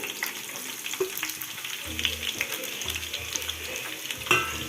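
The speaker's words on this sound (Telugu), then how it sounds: "ఇప్పుడైతే ఆయిల్ వేడెక్కింది ఆనియన్స్ అయితే వేసుకోవాలి" Onions fry in hot oil in a pan for a garlic chicken fry, a steady close crackling sizzle with occasional stirring scrapes and a soft low rumble underneath.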